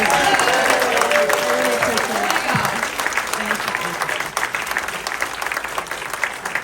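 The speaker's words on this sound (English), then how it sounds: "Can we give her another round of applause?" An audience at a live presentation at the Whisky A Go Go on the Sunset Strip breaks into sustained, dense applause, with a few cheers and voices mixed in, steady and loud throughout.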